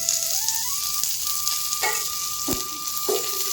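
Gram flour frying in oil in a home kitchen for a traditional village-style curry, a bright continuous sizzle with a few soft stirring knocks, accompanied by a sustained tonal whistle, and no talking.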